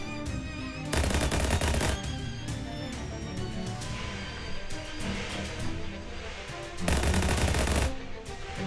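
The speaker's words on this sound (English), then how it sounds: "Just shoot some stuff again." Gunfire in the video game Shadows Over Loathing: two dense bursts of rapid automatic fire roughly a second long each, separated by a stretch of busier, scattered shots and clatter over continuous game music, with no voice.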